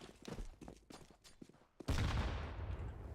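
AK rifle fire in the video game Counter-Strike 2, with a burst of sharp shots followed by a dense, loud roar of rapid gunfire.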